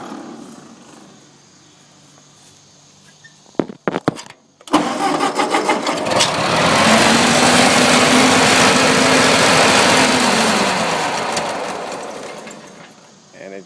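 A Ford 8N tractor engine cranks in a few rough bursts, then catches and runs loudly and steadily after choking, and the roar fades slightly toward the end. A person speaks briefly beforehand.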